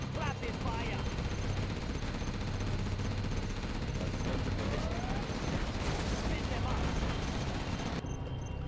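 A quad cannon firing rapidly in Command & Conquer Generals, a loud, unbroken stream of shots mixed with explosions and battle noise, with talking layered over it.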